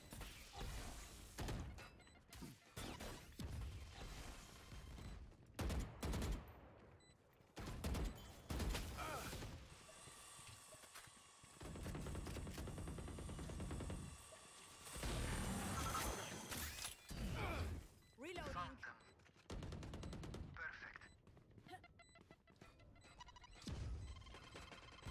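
Gunfire from the video game Valorant comes in scattered bursts of sharp shots and thuds, mixed with mechanical game effects. Stretches of denser firing break up quieter gaps, and the whole mix is fairly faint.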